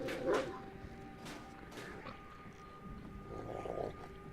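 A caged dog in the stealth video game Thief gives a few muffled barks and yips at middle distance over a low game ambience, with no voices.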